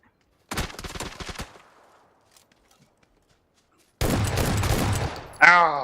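Rapid burst of PUBG video game gunfire, three quick shots crackling near and loud at the start, then a gap of near silence before another loud dense stretch of shooting and noise late in the clip.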